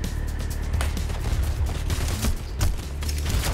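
Sustained gunfire in Payday The Heist during the Counterfeit heist, steady volleys of shots with booming reports over a constant loud din.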